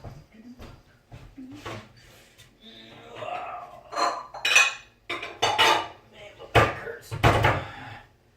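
A bowl taken out in a home kitchen among dishes and pans, with repeated ceramic and metal clatters, knocks and a cupboard-like thump, close and fairly loud, with brief voice sounds between.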